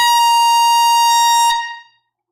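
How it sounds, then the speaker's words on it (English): A single loud air horn blast sounds as a steady, bright tone lasting about a second and a half, then cuts off and rings away into silence. "I take the air horn straight to the face every time."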